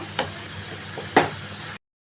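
Fish and onions sizzle steadily in a hot pan while a utensil scrapes and stirs them twice, close by, with no voices.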